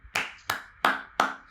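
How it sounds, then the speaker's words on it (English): Four sharp, evenly spaced claps sound in a slow steady rhythm, close and fairly loud, each with a short decay, as a talk-show audience claps for a guest. "Y'all clap it up. Yes. Clap it up"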